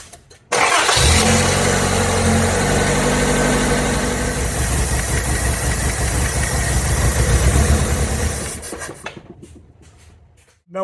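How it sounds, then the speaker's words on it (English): Car engine on a carbureted vehicle cranking and catching, then running at a rough, loud idle for several seconds before cutting off abruptly near the end. "We'll go ahead and fire the car up."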